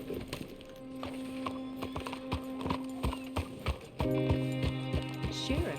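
Horse hooves clip-clop in a steady rhythmic pattern in the video game Red Dead Redemption II, close by, over a faint tonal hum.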